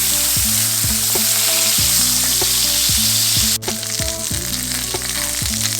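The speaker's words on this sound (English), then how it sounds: "fry it to the texture that you like, the doneness and level that you like" Sausage fries hard in a pan in the grease, giving a loud steady sizzle with a rhythmic underlying hum and a brief dip as something is moved partway through.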